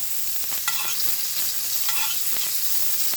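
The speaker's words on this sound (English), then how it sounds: "I'm just going to give this a little bit of a baste" Fresh fish searing in a pan while being basted, a bright continuous sizzle with spoon strokes and spatters flaring now and then over a faint low hum, nobody speaking.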